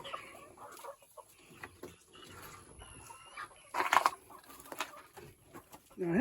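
Chickens clucking on a family farm, with a few brief cackles and clucks at moderate distance over rustling outdoor background noise and no talk.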